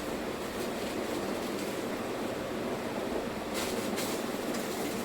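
Water running steadily from a household tap, a continuous close hiss and splash that stays even for the whole stretch with no voices.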